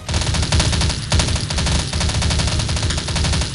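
MP7A1 submachine gun fire in the video game Crisis Action: loud, rapid automatic bursts with a brief pause between volleys, dense and close, with no voices.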